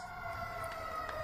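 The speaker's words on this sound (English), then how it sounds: "We'll allow the siren to give echo to that." Siren wailing steadily during a live speech about an attack on Israel, a sustained distant tone without talk over it.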